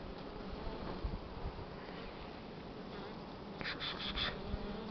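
Honeybees buzzing around an opened hive during spring mite treatment and first nest expansion, a continuous low drone of many bees with a few closer passes buzzing louder near the end.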